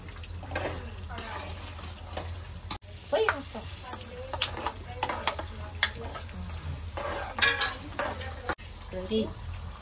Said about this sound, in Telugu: మనం వేయించలేదు కాబట్టి ఆయిల్లోనే వేయించుకుంటాం